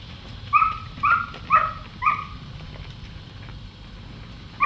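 A dog working cattle barks in a short series of four sharp yips about half a second apart, then one more after a pause, moderately distant against a quiet outdoor background.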